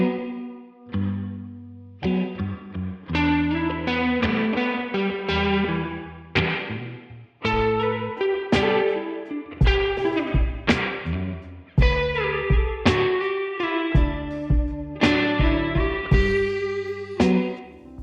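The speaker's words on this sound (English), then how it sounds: "Adding some lead guitar to the end, we get an outro that sounds like this." Lead guitar outro played through a Tone King Imperial amp simulation, a steady flow of melodic single notes and short phrases over chords, clean and up close with no voices.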